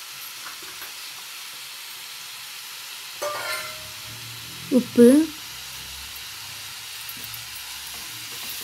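Prawn heads fry in a pan with turmeric and chilli powder, a faint, steady sizzle running throughout while a voice speaks briefly.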